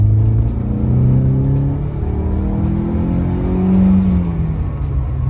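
A Cosworth car engine, revived after sitting fifteen years in a barn, revs up and eases off twice, its pitch climbing then dropping as it shifts through the gears, a steady loud rumble throughout.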